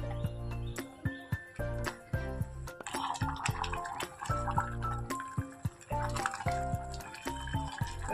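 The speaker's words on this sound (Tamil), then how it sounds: "நான் ஒரு கப் ரைஸ்க்கு ரெண்டு ஜக் அளவுக்கு தண்ணி ஊற்றிருக்கிறேன்" Water is poured from a jug onto rice in a pot for ven pongal, a choppy run of splashing and trickling pours broken by short pauses, close and fairly loud.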